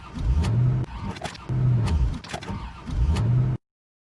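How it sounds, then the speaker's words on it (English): An overheated car engine struggles. It makes three repeated cranking, sputtering bursts with short gaps between them and then cuts off abruptly into silence. "Looks like we have a problem with the car. The engine is overheated."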